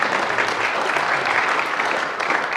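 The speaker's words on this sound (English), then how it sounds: "Thanks for the applause." Steady applause from a church congregation during a Unity Spiritual Center service, a dense, even wash of clapping that holds at one level throughout with no voices over it.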